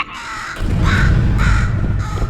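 A crow caws repeatedly in the Portal 2 video game, three loud harsh calls spaced about half a second apart over a low rumbling game ambience, with no talking.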